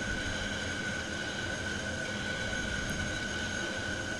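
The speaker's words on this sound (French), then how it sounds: "On va laisser l'avion tranquillement décélérer." An aircraft in level flight slows down, giving a steady, loud engine drone with a constant whine that holds unchanged throughout and carries no speech.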